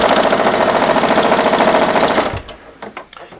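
Home sewing machine stitching through a quilt-as-you-go block, a steady loud mechanical whirr with fast rhythmic needle chatter that runs continuously for about two seconds, then stops, leaving quieter handling clicks and rustles.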